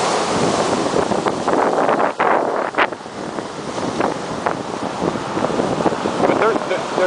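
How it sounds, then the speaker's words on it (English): Stormy sea waves crash over rocks along the Newport, Rhode Island shore while strong wind buffets the microphone, producing a loud, continuous surf roar with repeated close rushes of breaking water. "This way you see some of the water breaking over the rocks."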